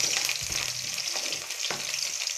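Onions hitting hot oil in a pan for pork adobo with mushrooms, giving a steady, loud, close sizzle that crackles continuously throughout with a few soft stirring knocks and no talking.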